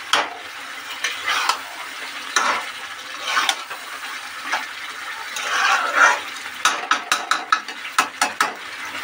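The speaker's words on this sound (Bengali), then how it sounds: "আবার একবার নেড়ে দেবো। এভাবে একবার করে নাড়তে নাড়তে এটা আমার কমপ্লিট হয়ে যাবে।" Beef chap frying in a pan, stirred with a utensil in restaurant style: repeated scraping strokes over faint sizzle, ending in a quick run of sharp clicks, close and with no talk.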